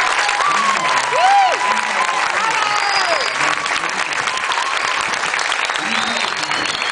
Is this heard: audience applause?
yes